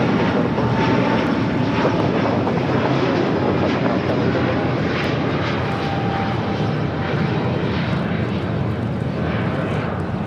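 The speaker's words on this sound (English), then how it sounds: "This is Lufthansa 453 Heavy, taking off to Munich on the A350-900." A Lufthansa Airbus A350-900 takes off at LAX with a loud, sustained roar of jet engines, broad and steady throughout, with no talk heard.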